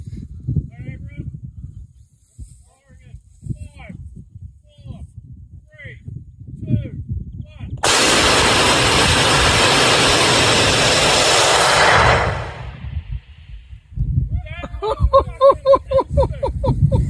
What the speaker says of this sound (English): N3400 stage 2 motor test